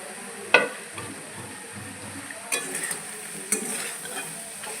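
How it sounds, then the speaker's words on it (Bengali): Dried loitta fish frying with chili in a pan for bharta, a soft sizzle under scattered scraping stirs, with three sharper utensil knocks spaced across the few seconds. "এটাকে কিছুক্ষণ একটু ভেজে নেব।"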